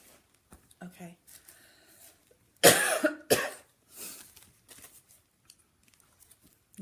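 Several harsh, chesty coughs from a person out in the cold all day, a loud burst in the middle between quieter breaths and rustling, close to the listener.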